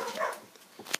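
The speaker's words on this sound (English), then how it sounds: "That's my dog barking." A dog barks outside, faint and distant, giving a couple of short yaps within a brief moment indoors.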